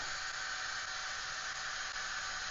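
A powerful electric blower runs steadily at full power, a loud, even, close-up rushing whoosh with a high whine and no variation or talk.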